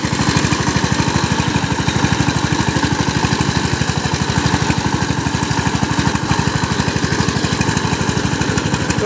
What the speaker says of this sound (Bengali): ডিজেল ইঞ্জিন, সাইপিং 18 ফাল পাওয়ার টিলার দিয়ে কাদা জমি চাষ করা হচ্ছে